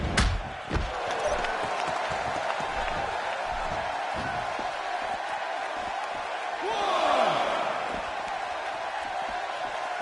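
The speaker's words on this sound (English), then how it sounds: "by the sound of this crowd, I think they're getting what they wanted" A large arena crowd in the WWE 2K16 wrestling game keeps up a steady roar of cheering, swelling louder near the end, with occasional thuds from the ring beneath it.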